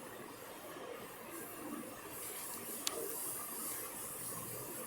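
Mustard seeds splutter in hot oil in a pan, making a faint, steady frying hiss with a single sharp pop, before ground pulicha keerai (sour gongura greens) is added.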